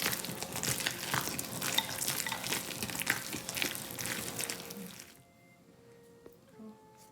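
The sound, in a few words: stirring hot snow skin mooncake dough in a pan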